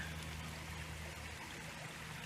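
Water running through a sluice in a river, a steady continuous rushing and trickling wash that stays constant and fairly faint throughout.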